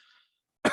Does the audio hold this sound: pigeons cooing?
no